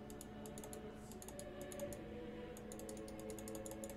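Rapid clicking of a computer mouse or keyboard during strategy-game play, a steady patter of light taps over constant background game music, close and moderately loud with no voices.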